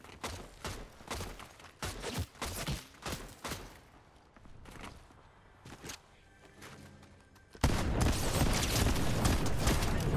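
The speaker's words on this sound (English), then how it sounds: "What are you shooting at?" Rapid bursts of gunfire from a shooter video game, with a gray shotgun among the weapons: dense repeated shots in clusters, then a sustained loud barrage near the end.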